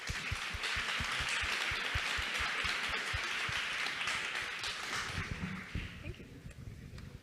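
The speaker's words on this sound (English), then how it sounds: "very warm round of applause" Warm audience applause welcoming guests onto a panel at a tech conference, a steady wash of clapping that fades near the end as a voice begins talking.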